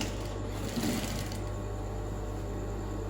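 A sewing machine stitches a party dress, a steady low mechanical hum running evenly throughout at moderate, close level.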